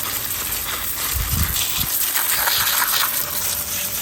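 Water splashing onto cherry tree potting substrate during repotting, a continuous hissing gush with a few heavier low splashes, close and steady.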